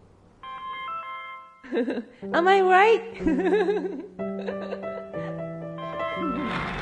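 A mobile phone ringtone plays a stepped electronic melody of steady tones, continuing under a man's laughing, chattering voice nearby.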